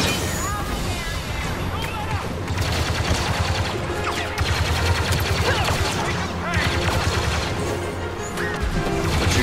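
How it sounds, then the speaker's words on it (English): A light machine gun rattles in sustained rapid fire during a Star Wars Battlefront II campaign battle, dense and loud, with explosions and battle clutter layered around it and a voice talking over the action. "My light machine gun."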